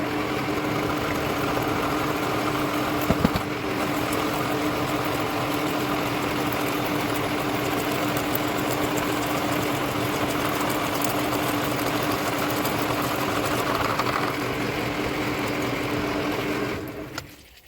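Milling machine in a home shop cutting with a 1.25 inch end mill, a steady loud whining drone with a constant pitch lasting nearly the whole time before stopping at the end.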